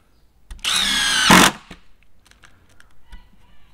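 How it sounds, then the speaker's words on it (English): A Milwaukee Gen 3 Fuel brushless impact driver set to speed 2 runs in one close, loud burst of just under a second, ending in a sharp jolt, followed by faint clicks and handling noises. "So doing the Milwaukee fuel brushless again, speed 2 this time for a little bit more control"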